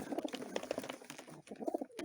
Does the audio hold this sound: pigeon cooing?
yes